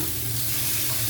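Fresh chicken breast hits a hot pot with lemongrass and sizzles, a steady, close, loud frying hiss that carries on without a break.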